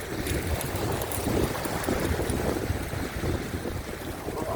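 Strong wind buffeting a microphone on a seaside rock at Adeul Bawi in Jumunjin, Gangneung, during float fishing, with rough waves, a dense continuous roar and rumble, loud and close throughout.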